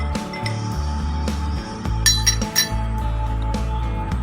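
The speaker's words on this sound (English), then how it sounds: "I'm stirring the milk and now," A spoon stirs milk into water in a glass, making a steady run of close, bright clinks and rings against the glass, with no talking.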